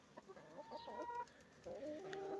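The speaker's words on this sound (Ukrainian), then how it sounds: "Мої кури Легорн." Several Leghorn chickens cluck and murmur nearby in a short, busy stretch, with a few sharper calls and a steady outdoor hum beneath.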